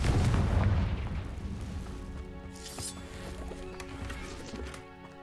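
A Confringo fire spell explodes in Hogwarts Legacy, a loud booming blast at the start that fades into a lingering rumble with scattered crackles.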